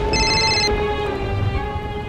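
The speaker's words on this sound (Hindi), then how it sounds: "लो, तुम्हारी मम्मी का कॉल आ गया।" A telephone rings with an incoming call, its electronic tone sounding for a moment at the start before fading, over a steady, loud background hiss that sounds like heavy rain.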